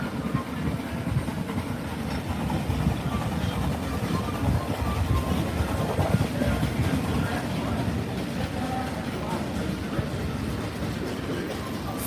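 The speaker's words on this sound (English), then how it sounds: "Oh, here comes the train." A train rumbles past close by, a dense continuous roar of wheels and engine on the rails that stays loud for the whole stretch.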